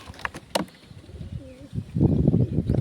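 Pigeons coo softly inside a closed loft box, a few low murmuring calls rising over faint rustling and shuffling that grows louder toward the end.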